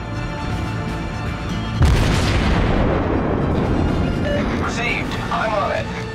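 Warship guns in World of Warships, a USN Cleveland cruiser, fire a heavy booming salvo that rolls into a long rumbling decay, with game radio voices faintly over the tail.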